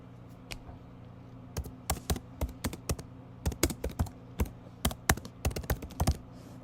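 Someone types on a computer keyboard in irregular bursts of crisp, close key taps, with short pauses between clusters, over a quiet background hum.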